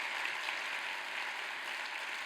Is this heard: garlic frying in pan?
no